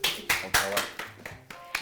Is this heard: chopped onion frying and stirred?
no